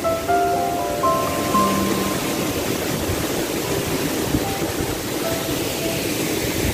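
Continuous rushing water of the Sarasah Kayu Jao waterfall roars steadily, a dense wash of noise with a faint tonal chirp or two near the start.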